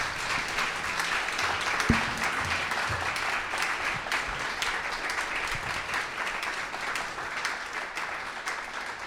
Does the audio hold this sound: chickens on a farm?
no